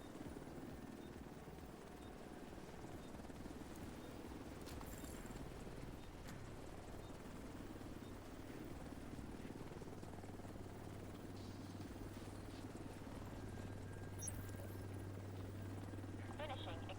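An extraction helicopter in The Division 2 keeps up a steady, faint rotor drone as it heads out, with other game sounds and voices scattered over it throughout.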